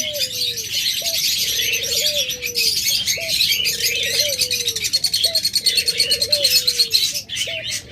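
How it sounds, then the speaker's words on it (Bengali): Caged pet doves and lovebirds fill the space with repeated rising coos over a dense bed of high chirps and tweets, loud and close, with a few brief wing flaps and no speech. "জঙ্গলি বেরি পাখি।"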